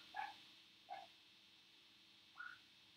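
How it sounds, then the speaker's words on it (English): Dogs barking in the distance, three faint separate barks spaced about a second apart over a quiet background hum. "can you hear the dogs already started?"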